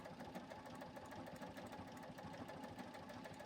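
A JUKI sewing machine stitches fabric for a pet Halloween costume with a fast, steady mechanical whir and rhythmic needle chatter, quiet and continuous with no talking.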